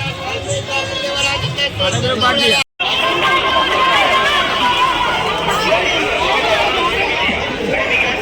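Dense crowd chatter at a busy fair, a loud continuous babble of many voices with passing movement, broken by one very brief dropout.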